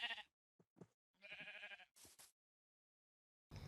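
Sheep in the Minecraft video game bleat several times in short, quiet, separate calls with silent gaps between them and no other sounds around them.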